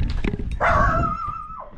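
A dog close by gives a couple of short yips, then a loud, drawn-out whining howl that rises and falls away, with no talk over it.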